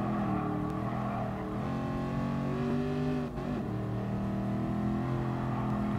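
A growling V8 race car engine in GT Sport holds a steady, loud droning tone with a brief lift around a gear change, close and continuous with no voices.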